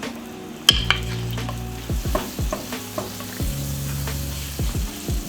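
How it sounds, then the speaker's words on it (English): Butter sizzles and crackles softly in a pan as a sauce for tilapia begins, with occasional scraping stirs and clinks of a utensil, close and steady. "we're gonna start off for right now, again, a couple tablespoons of butter"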